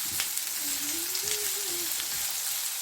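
Vegetables for a chicken spring roll filling cook in a pan with a dense, even sizzle that holds throughout, close and fairly loud, with a faint brief tonal squeak partway through.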